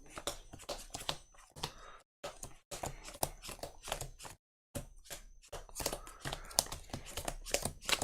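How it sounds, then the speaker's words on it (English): Cards are pile-shuffled on a tabletop for an Arkham Horror card game, giving quick, close bursts of soft slaps and riffling taps separated by two brief pauses, with no talking. "I'm going to pile shuffle a little bit here."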